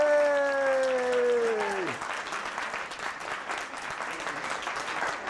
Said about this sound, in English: A round of applause for these two lovely young ladies who did all this work.